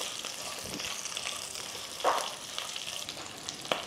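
Dried red chillies and green chillies frying in oil for a tamarind-style raw banana dish, a soft, close sizzle with a few sharp crackles and pops spread through it.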